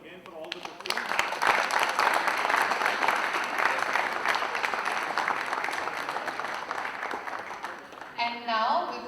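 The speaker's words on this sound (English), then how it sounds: "Take a big round of applause again for all the 15." Large audience clapping at a student leadership contest, a full burst of applause that swells quickly and holds steady before tapering, with a voice briefly emerging near the end.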